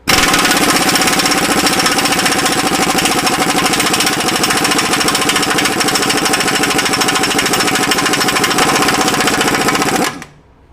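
A Myers MTS53371 air impact wrench hammers at 700 foot-pounds in a loud, dense rattle. It runs nonstop for about ten seconds and then cuts off abruptly.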